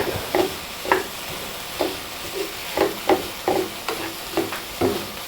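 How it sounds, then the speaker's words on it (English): Onions and garlic sauté in a pan while being stirred, a steady sizzling hiss broken by repeated scraping strokes of a utensil at a regular rhythm, close and moderately loud with no talking. "we're going to saute these a little bit longer and wait for them to get brown"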